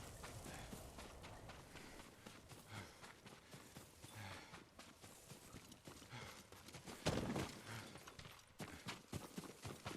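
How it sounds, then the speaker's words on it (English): Horse hooves clip-clopping at a run through woodland in Ghost of Tsushima, a steady, fairly quiet patter of strikes with some faint rustling and no talk over it. "There's a horse."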